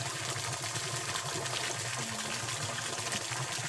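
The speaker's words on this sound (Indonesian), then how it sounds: "Ada curugan airnya teman." A small waterfall pours steadily into a stream at a fishing spot, a continuous broadband rush with low gurgling underneath, close and fairly loud with no breaks throughout.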